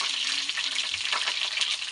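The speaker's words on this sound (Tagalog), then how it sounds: "Prito tayo guys ng manok." Steady crackling sizzle of chicken frying in hot oil, close and continuous with no voices.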